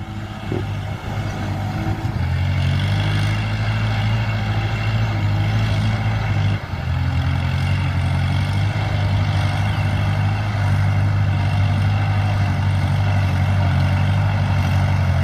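Kubota L5018 tractor with a 2,434 cc engine running steadily at high revs, a loud continuous diesel rumble with strong low harmonics and a brief dip near the start, with no talk.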